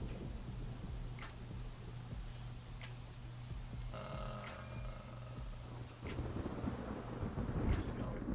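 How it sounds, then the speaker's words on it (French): Thunderstorm in the video game Craft The World, with steady rain hiss and low rumbling under several sharp distant thunder cracks, and a heavier gust of rain and rumble near the end, all at low volume with no talk. "Sacré orage."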